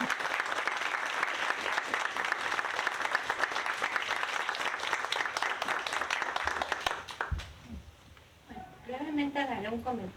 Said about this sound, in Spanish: Un aplauso a los doctores.